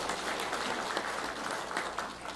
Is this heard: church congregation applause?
yes